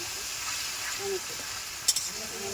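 Spice masala stir-frying for aloo dum makes a faint, soft sizzle, with a brief pair of utensil clinks near the end.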